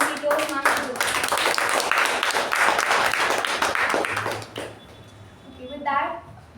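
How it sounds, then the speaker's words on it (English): Applause from a group at a Toastmasters club meeting fills the space for several seconds, dense and steady, then fades as a voice begins speaking. "Let's give a huge round of applause for MC Toastmasters."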